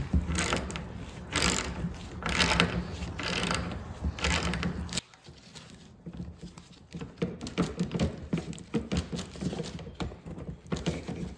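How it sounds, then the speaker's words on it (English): Screws being removed with a T25 driver from the quarter window pulley mechanism of a 2005 Ford Mustang convertible top, with repeated mechanical ratcheting clicks and scraping, loud at first, then quieter, then busy again, with no talk. "You need a T25 driver to remove the screws."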